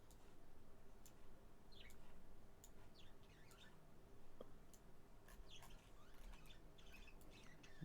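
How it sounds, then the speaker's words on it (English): Birds chirp outside in the dark, faint and distant, with scattered short calls and squawks over a steady background hiss and no talking. "They do be chirping."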